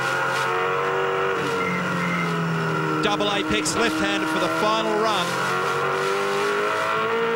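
A V8 Supercar engine at Eastern Creek during a 2003 championship hot lap, droning steadily at high revs with flat upshifts, continuous and loud under a commentator's voice.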